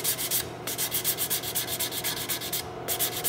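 Sandpaper is rubbed in quick, even back-and-forth strokes over a wooden gun stock from a colonial rifle kit, close and alone, with a short pause in between.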